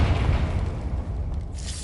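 A Confringo spell explodes in Hogwarts Legacy, a deep, rumbling boom that fills the whole moment with a steady low roar and no voices over it.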